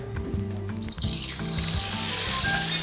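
Milkfish (bangus) deep frying for sisig, a steady bright sizzle and crackle of hot oil that grows denser over a few seconds, with no talk over it.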